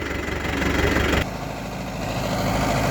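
A Mahindra Yuvo 4WD 585 or John Deere 5050D tractor engine runs steadily in medium gear with both levers down, a close, even mechanical drone whose tone shifts slightly partway through.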